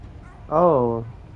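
A short, cat-like crying wail from a child or baby in the Silent Hill video game, one rising-and-falling cry of about half a second, clear and close against a quiet background.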